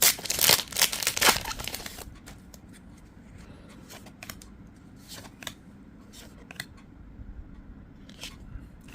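A Heaven Burns Red trading card pack is torn and crinkled open loudly at first, followed by softer intermittent shuffles and flicks of cards being handled close by.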